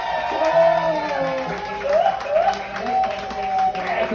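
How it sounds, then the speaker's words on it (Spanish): Wedding guests clap and cheer amid a lively reception with a band, crowd noise and scattered whoops layered over music tones, fairly loud throughout. "Fuerte el aplauso"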